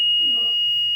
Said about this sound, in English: These are alarms similar to a call button.